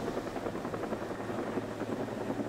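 A helicopter works overhead during a logging operation, its rotor throbbing in a steady low beat with constant engine drone, fairly close and unbroken, no talk.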